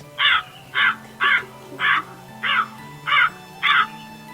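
A black bird calling on a mountain trail at night, seven harsh, evenly spaced caws in a row, loud and close, with a faint low hum underneath.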